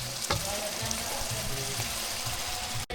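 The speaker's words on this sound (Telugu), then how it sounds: "మేము ఎక్కువ గ్రేవీ లేకుండా బాగా ఫ్రై చేయడానికి చూస్తున్నాం." Chicken frying dry in a pan: a steady, close hiss and sizzle fills the whole stretch, with a few faint clinks and stirring sounds and no talking.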